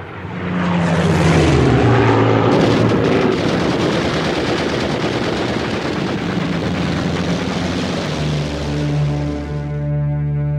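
Fighter aircraft roar through an air battle with machine gun fire, a loud, dense, sustained engine drone mixed with rapid firing throughout, with no voices.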